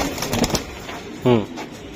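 A single short pigeon coo sounds near the end, following a brief burst of voices and handling noise from a pigeon seller's birds.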